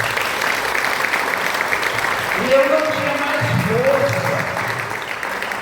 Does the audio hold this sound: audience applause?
yes